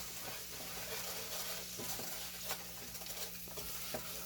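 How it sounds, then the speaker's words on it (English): Flour is whisked into a pan with a quick, steady scratchy stirring over a faint continuous hum, soft and close, with a few small taps near the end and no voices. "we're going to whisk that in"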